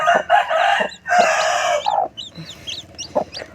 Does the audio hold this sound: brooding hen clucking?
yes